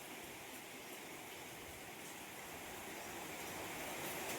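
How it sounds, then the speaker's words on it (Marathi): Steady rain falls outdoors in a Konkan village courtyard, a faint, even wash of hiss with no distinct drops and no talk. "लगेच सुरू होतो पाऊस"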